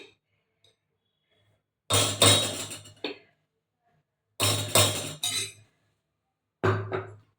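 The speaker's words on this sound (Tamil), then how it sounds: "கோதுமை மாவு இதை கரண்டியால் அள்ளி ஒரு பாத்திரத்தில் இருங்க" A ladle scoops wheat flour into a metal vessel in three close, separate bursts of scraping and clinking, each lasting about a second, with quiet pauses between them.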